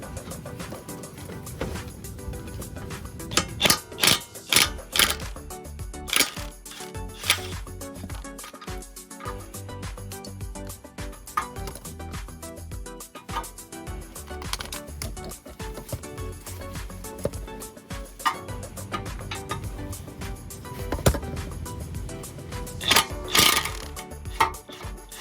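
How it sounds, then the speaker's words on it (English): An impact gun hammers at 12 mm brake caliper bolts on an Acura RSX during front brake removal, loud rattling bursts of varying length separated by clanks and handling noise, with no talking. "So I like to take the impact gun if I can on that, just to help break these free."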